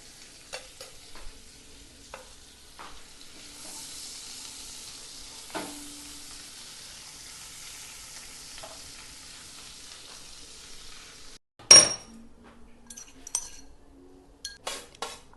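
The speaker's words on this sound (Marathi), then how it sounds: "बटर मेल्ट झालं की आपण त्यामध्ये आलं लसूण पेस्ट टाकणार आहोत" Ginger garlic paste fries gently in melted butter, a faint steady sizzle with a few soft scrapes, followed near the end by louder clinks and knocks from a utensil against the pan.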